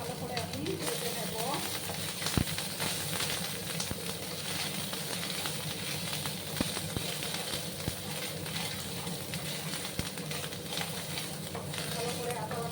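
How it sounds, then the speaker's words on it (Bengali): Ginger paste fries in oil with a steady soft sizzle and hiss, broken by occasional scraping stirs, continuous and close throughout. "ভালো করে আদা বাটাটা আমি ভেজে নিচ্ছি।"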